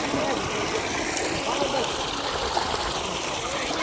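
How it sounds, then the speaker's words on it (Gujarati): A small stream of water flows outdoors, giving a steady, even rushing wash that stays at one level throughout, close and fairly loud. "આવી રીતના કાંઈક ઝરણાઓ જાય છે"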